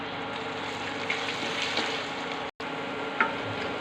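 Garlic and green chili paste frying in a pan for lati dal gives a steady, even sizzle that stays close and constant, with one brief cut about two-thirds of the way through.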